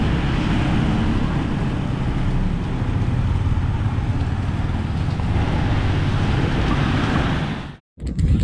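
Sea waves washing onto the beach at Nha Trang, Vietnam, a continuous loud roar of surf that drops out abruptly near the end before resuming.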